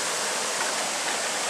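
Water pours over the main dam at Rockwood in a steady, loud, unbroken roar of rushing whitewater, with no voices.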